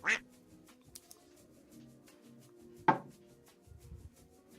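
A live-stream alert plays a duck quack twice, first sharply at the start and again about three seconds later, each short and clear over a quiet background.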